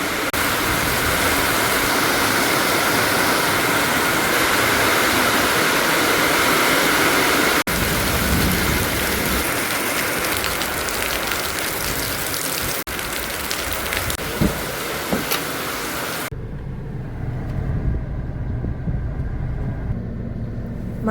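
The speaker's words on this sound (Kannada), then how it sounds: "ಒಮ್ಮೆಲೆ ಮಳೆ ಜೋರಾಯಿತು." Heavy hail-mixed rain beats down in a yard in a loud, steady wash for most of the stretch, then eases abruptly to a lighter patter near the end, with no voices.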